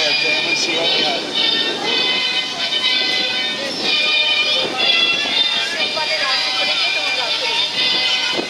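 Conch Train tour train rolling through the streets of Key West, Florida, a steady rumbling ride with ongoing chatter and background noise under a tour guide's talk.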